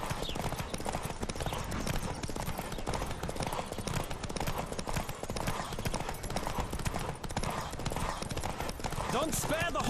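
Rapid hoofbeats of a galloping horse in The Witcher 3: Wild Hunt pound continuously under a voice speaking, with wind-like rushing noise throughout.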